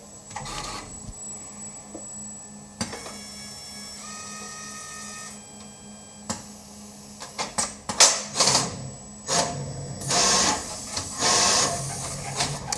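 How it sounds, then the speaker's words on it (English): A pick and place machine works on small electronic components, giving rapid mechanical clicks, whirring servo tones and short hissing bursts of air in an irregular busy rhythm, close and fairly loud, with no voices. "As you can see, this pick and place machine is extremely accurate."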